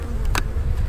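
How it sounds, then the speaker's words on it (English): Honey bees buzz steadily inside a crowded hive during a hive split, a dense continuous drone close by with a brief louder swell from a bee passing near. "Lots of bees. Geez, still jam-packed with bees."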